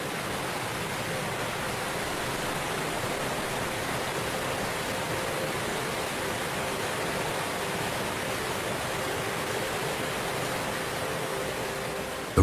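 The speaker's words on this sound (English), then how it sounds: "The roar of falling water overwhelms every other sound" Fossa Waterfall on Streymoy in the Faroe Islands roars in a steady, dense wash of falling water, loud and unbroken throughout with no other sounds breaking through.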